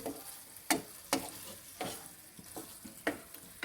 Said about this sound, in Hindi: अब इसी पॉइंट पे मैं इसको अच्छी तरह मिक्स करके